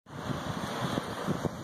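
Wind rushes and buffets across the microphone in a steady, breathy roar with low gusty thumps, nearby and fairly loud, with no voices.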